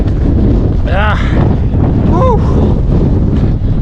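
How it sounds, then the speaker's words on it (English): Strong, cold wind blows across a Scottish hilltop on the Meall a Bhuachaille trail and roars loudly against the microphone throughout, with a couple of brief whistling tones in the gusts. "Colder up here with this bloody wind."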